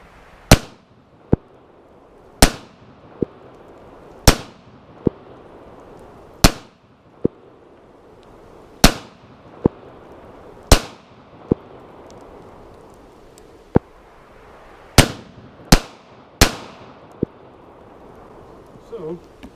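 Sharp, loud pistol shots from a Kel-Tec PMR-30 during ammunition testing on a range, about eighteen irregularly spaced reports, some in quick pairs, with echoing tails and a steady low background hum between shots.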